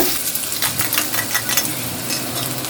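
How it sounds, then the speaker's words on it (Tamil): Onions sizzle in hot oil with popping mustard seeds in a pan for South Indian okra pachadi, a steady close crackle with scattered sharp pops and no voices. "கடுகு நல்லா பொரிஞ்சதுக்கப்புறம் இந்த பெரிய வெங்காயம் சேர்த்துக்கோங்க"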